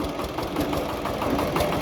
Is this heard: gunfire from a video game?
no